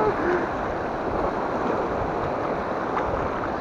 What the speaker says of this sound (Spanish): Y aquí están las olas altas.